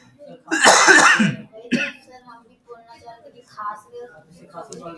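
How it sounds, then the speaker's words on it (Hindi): A close, harsh cough burst, followed by a shorter throat-clearing cough, then quieter mumbling voice sounds. "खांसी बढ़ गया मेरा"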